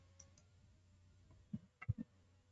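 Computer mouse right click, a few faint sharp clicks near the end over a quiet room hum, with no talking.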